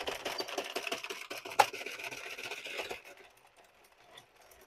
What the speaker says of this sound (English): your knitting machine all the way around and then pick up the stitches.